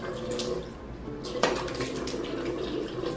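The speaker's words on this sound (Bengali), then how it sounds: "চলো একটু মুখে স্প্ল্যাশ করে দেখি জলটা" Tap water splashes at a basin as someone rinses their face, a faint running flow with one sharper splash midway and softer trickles around it, no talking.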